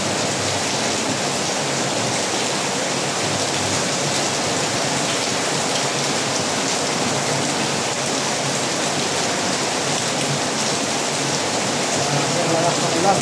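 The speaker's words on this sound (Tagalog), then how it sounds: "Hirap po yung magdaya sa ganitong lalakas ng ulan" Heavy rain pours down steadily at night, a dense, even roar of water hitting surfaces with no letup throughout.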